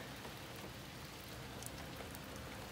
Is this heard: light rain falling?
yes